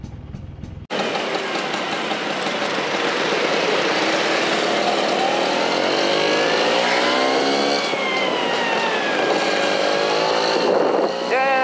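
A Vespa scooter engine runs steadily and loudly after a brief quiet start, holding a continuous buzzing drone with slight pitch shifts and no talk over it.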